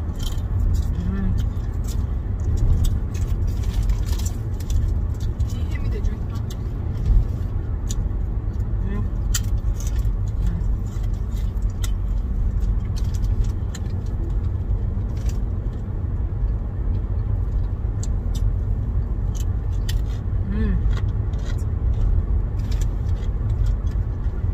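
A car drives home along a road in the United States, heard from inside as a steady low engine and road rumble. Faint clinks and people talking sit over it.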